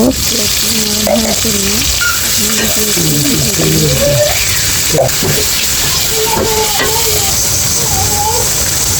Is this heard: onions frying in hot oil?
yes